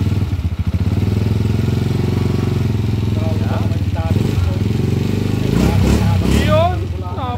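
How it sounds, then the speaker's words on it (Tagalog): A freshly overhauled motorcycle engine runs close by with a steady, even low throbbing, while someone talks over it in the second half. "Napakapino na ng andar o."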